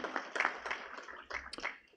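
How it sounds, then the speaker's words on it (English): Audience at a 2024 school graduation ceremony clapping for the staff, a faint scattered patter of hand claps that fades out over two seconds. "Please give our staff a round of applause"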